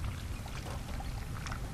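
Water pours steadily and softly in a Roblox game, a quiet continuous splashing stream with no talking.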